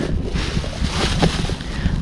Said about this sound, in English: Now it is windy.